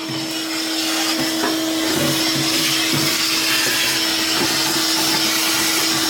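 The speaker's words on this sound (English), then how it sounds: "Vacuum a bit." A vacuum cleaner runs steadily and loudly for the whole stretch during work on a 1973 Volkswagen Bus, a constant drone with a tonal hum and occasional clunks, no voices over it.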